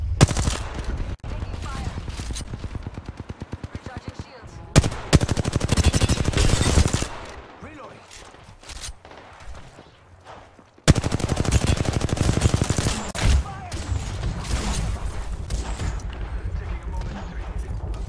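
Apex Legends gunfight with rapid automatic gunfire in long, loud, close bursts, broken by brief pauses and separate single shots, while a voice talks intermittently.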